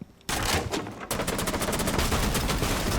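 A gun in a video game fires in dense, rapid, continuous bursts. The loud barrage starts abruptly after a brief quiet moment, then keeps going without a break.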